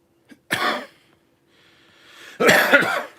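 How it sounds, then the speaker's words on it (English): Someone coughs twice, a short close hack followed after a pause by a louder, harsher burst, with a faint breath between and no speech. "As soon as I start talking on here, of course I got to start coughing."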